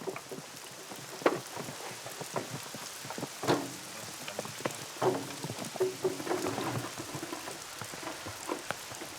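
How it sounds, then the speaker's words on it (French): Heavy pouring rain drums steadily on surfaces outdoors during a journey on an impossible road, with scattered louder splashes and thumps standing out from the dense, continuous hiss. "La bruine qui les a accompagnés tout le long du trajet se transforme peu à peu en une pluie battante."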